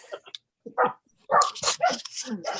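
A dog gives a few short barks and yips in a room among chatting men, its sharp bursts mixed in with loud casual talk.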